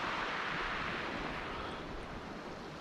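Steady roar of large ocean waves breaking at a fishing spot, with wind buffeting the microphone; a continuous broad wash of surf with no distinct pauses and no talking.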